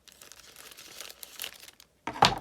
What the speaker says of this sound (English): Let me just cut it open.